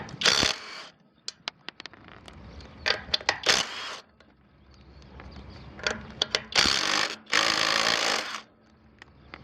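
A ratchet wrench loosens the lug nuts on a small trailer wheel, with rapid clicking runs and sharp ticks in several bursts separated by quiet gaps.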